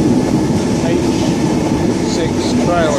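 An Oscar H-set train of Sydney Trains running through Mortdale station, a heavy, continuous near rumble with clattering wheels and a thin squeal rising near the end.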